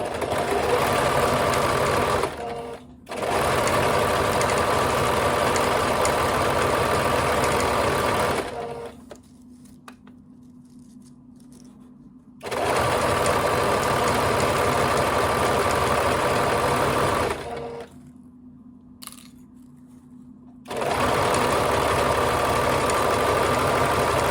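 A sewing machine stitching a French seam on a garment runs in long loud whirring bursts separated by brief quiet pauses, close up and with no voices.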